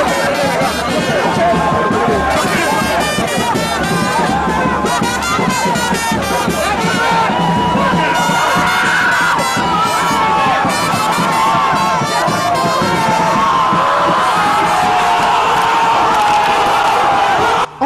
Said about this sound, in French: sous les chants et acclamations de ses sympathisants